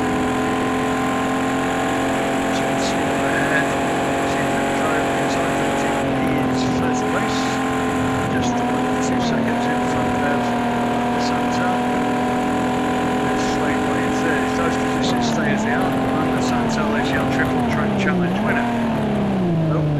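Race cars roar around a track in a racing game, steady high engine whine rising and dipping as they brake into chicanes, loud and continuous beneath a commentator's voice.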